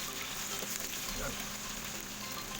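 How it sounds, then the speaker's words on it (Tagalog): Tokwa (firm tofu) frying in a pan, giving a steady, dense sizzle that holds evenly throughout without pauses and with no talking over it. "So habang piniprito natin yan"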